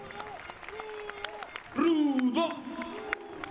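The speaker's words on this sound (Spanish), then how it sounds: "Vamos a darle un fuerte aplauso a Arturo el Rudo Rivera" Crowd applause and cheering fill a lucha libre wrestling arena at an AAA Rey de Reyes 2022 event, with a loud swell midway while an announcer shouts over the noise.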